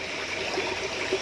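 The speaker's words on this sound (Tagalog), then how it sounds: "pumapasok na yung tubig" Creek water gurgling and trickling as it flows into the intake pipe of a homemade water system, a steady close liquid rush with small bubbling accents and no talk.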